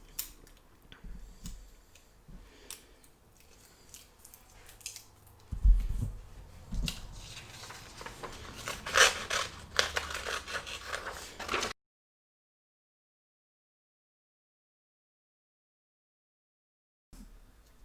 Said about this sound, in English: we're going to get our scissors and we're going to cut out all the way around